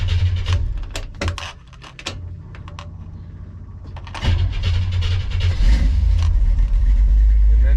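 A 1957 car engine fitted with FiTech fuel injection clicks and cranks, then catches and settles into a rough, uneven idle that sags as if about to stall and then swells back, loud and close.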